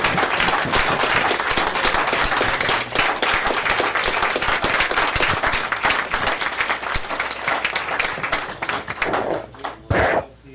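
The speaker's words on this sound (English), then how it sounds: "I want everyone, before I hand out the plaques, to give a nice round of applause" An audience at a March 2013 Town of Abingdon council meeting gives a long, dense round of applause before plaques are handed out, the clapping thinning and fading out near the end.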